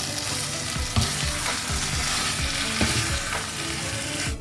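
Masala chicken sizzles loudly in a pan as it is stirred, with constant frying hiss broken by repeated scraping strokes of the spoon at close range.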